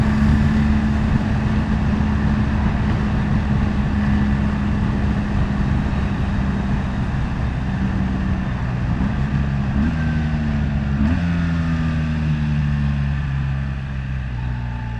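A BMW 1300GS Adventure motorcycle in dynamic mode on an open road after leaving the motorway gives a steady, loud, droning engine hum mixed with wind rush, with its pitch shifting twice toward the end.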